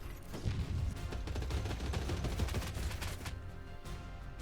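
Rapid, sustained gunfire from snipers and other units in the strategy game Warside, dense overlapping shots and bursts rolling steadily and loudly with no pause, with no voices heard.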